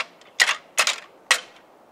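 Rattling antlers from 4n2 clashed together for deer calling, held loosely for maximum volume: three sharp, clacking bone-on-bone strikes, close and crisp, spaced at an uneven rhythm with brief rattling tails.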